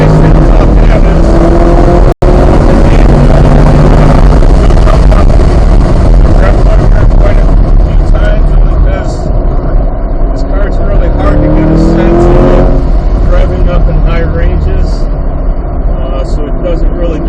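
A 2023 Corvette C8 Z51 drives on the Gingerman race track in automatic mode, its loud engine droning and rising steadily throughout while someone talks over it.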